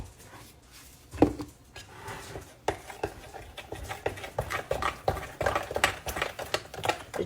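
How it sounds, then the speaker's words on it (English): A spoon stirs a cornbread batter mixture for tamale pie, with irregular clinks and scrapes against the bowl. The stirring starts quiet and builds into a steady, close run of soft taps. "I'm going to stir all that really good."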